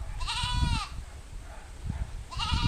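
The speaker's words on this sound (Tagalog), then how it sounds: "Wag ka maingay kambing." A goat bleats loudly twice, a long wavering cry followed by a second one starting near the end, over low rustling background noise.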